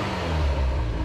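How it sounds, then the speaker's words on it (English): A Ferrari 348 fitted with an aftermarket exhaust gives a steady, close engine rumble for about a second, with a slight swell in the middle, heard alone. "It has some kind of exhaust on it, huh?"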